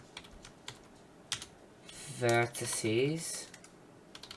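Scattered keystrokes on a computer keyboard as C# code for a 3D rendering engine is entered, sparse soft clicks before and after a brief spoken word.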